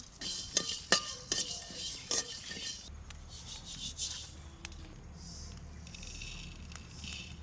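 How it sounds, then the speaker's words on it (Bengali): Coriander and cumin seeds are dry-roasted in a dry pan, stirred with quiet scraping and sharp clinks of a utensil against metal, close and faint, busier at the start and then settling into a soft, steady rub. "শুকনো খোলায় এই ধনে কটা ভেজে নেব। এটা অর্ধেক ভাজা হয়ে গেছে, এবার একটু দিয়ে দেবো জিরে"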